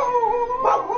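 A dog barks or howls in a room, a single drawn-out call lasting about a second, close and fairly loud, with no talk over it.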